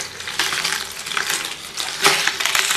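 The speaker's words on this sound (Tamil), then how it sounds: "இப்போ இதில் 1 கப்பு காஸ்டிக் சோடா போட்டுடலாம்." Granular, gritty pouring and rattling as dry caustic soda flakes are tipped into a vessel for soap making, in a few uneven bursts, close and fairly loud, with no talking.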